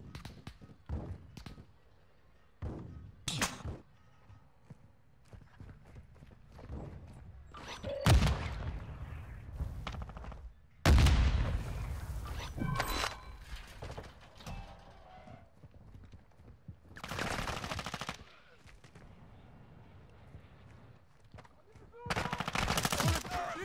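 Sniper rifle shots ring out in Warzone DMZ, several sharp loud cracks spaced irregularly among quieter game noises and hoofbeat-like clatter.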